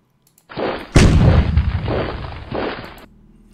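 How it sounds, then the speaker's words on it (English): Artillery fire in the Decisive Campaigns Ardennes Offensive war game booms out in two or three heavy, rumbling blasts in quick succession, loud and close, then fades out. "some errant artillery fire"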